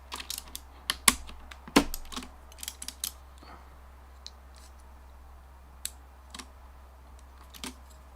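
Typing on a Das Keyboard 4 Professional mechanical keyboard: sharp, close key clacks in irregular bursts and scattered single presses, loud against a low hum, with no talk.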